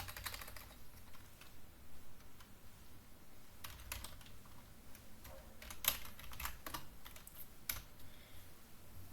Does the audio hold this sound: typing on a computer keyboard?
yes